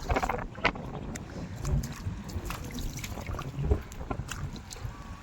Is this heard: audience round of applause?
no